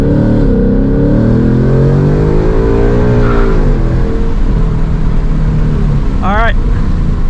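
Car on factory street tires launching hard in drag mode for a 0-60 run on a chilly afternoon, a loud close engine drone rising steadily in pitch as it accelerates.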